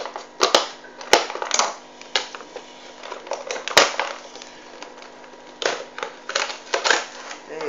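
Crinkly, crunching plastic toy packaging, Transformers egg bods, handled up close in irregular bursts, with sharp snaps and clicks scattered through, no voices.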